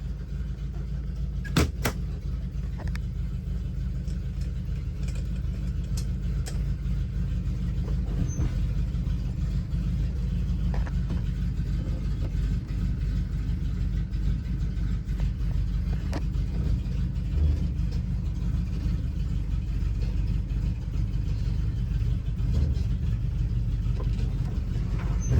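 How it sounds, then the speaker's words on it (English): A 1979 Dodge D200 crew cab truck engine with a blown muffler, a steady deep rumbling drone at a constant idle that holds for the whole stretch, with a few faint clicks and no talking. "I know, that blown muffler sounds badass."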